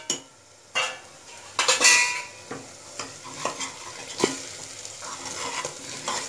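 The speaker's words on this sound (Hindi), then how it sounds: "मसालों को तेल में भून लेंगे।" Dry spices (red chilli, turmeric, coriander powder and salt) frying in oil in a pan, with a soft sizzle under repeated spoon clatters and scrapes against the metal, then a steadier frying hiss toward the end.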